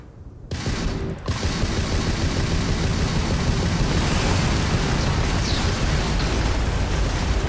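Sustained gunfire and explosions from a space combat firefight in the video game Starfield, loud and dense throughout after a brief quieter opening, with no voices.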